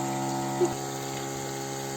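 A water pump machine running for crop irrigation, a steady continuous motor hum with a faint water rush, close and even, with a brief small knock partway through.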